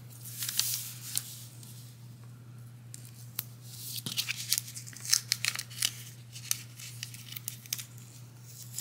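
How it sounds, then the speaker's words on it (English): Tape torn from a roll and pressed down onto fabric while sewing biking shorts: a series of sharp rips and crinkly patting bursts, close and quiet, with a steady low hum underneath and no speech. "and then I'm gonna put tape down"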